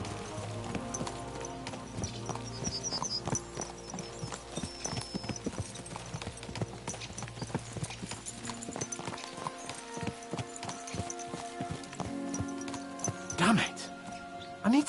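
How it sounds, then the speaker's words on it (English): Horses gallop in the video game Kingdom Come: Deliverance II, with hooves clip-clopping in a steady, close rhythm throughout and a brief neigh near the end, while voices talk over the hoofbeats. "Let's really spur these horses on, eh?"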